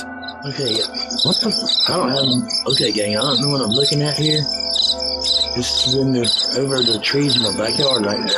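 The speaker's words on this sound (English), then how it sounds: "You can hear the crickets and stuff, the cars going by." Crickets chirp steadily through a backyard at night, a dense high pulsing trill under the trees that runs the whole time beneath close, excited talking.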